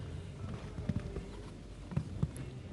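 Hooves of a show jumping horse in an international Nations Cup arena in Abu Dhabi, landing in a few scattered dull thuds at moderate distance over a steady crowd and ambient background.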